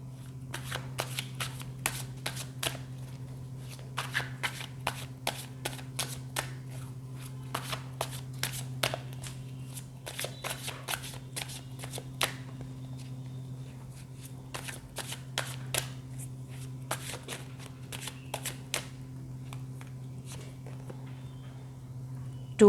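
Tarot cards being shuffled by hand give repeated crisp riffling bursts in quick clusters with brief pauses, close and fairly clear over a steady low electrical hum.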